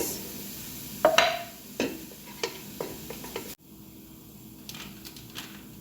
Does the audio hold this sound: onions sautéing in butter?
yes